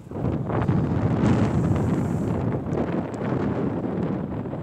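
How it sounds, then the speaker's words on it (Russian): Steady wind buffets the microphone with a low, muffled rumble that continues throughout, outdoors among new buildings in Gatineau, Canada, with no one speaking. "Я закрываю микрофон, чтобы ветер не дул."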